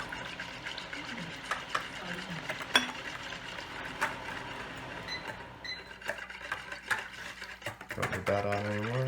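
A whisk scrapes and clinks steadily through lye solution and used fryer oil while making soap, with sharp irregular ticks against the bowl at close range, and a person talks near the end.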